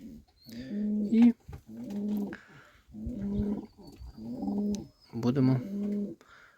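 Pigeons coo repeatedly in a dovecote, a series of low, throaty rolling calls in close succession, fairly near and moderately loud, with faint background chirps between phrases.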